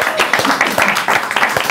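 Applause from a live comedy show audience: dense, steady clapping with scattered sharper claps across the whole short stretch, fairly close and loud.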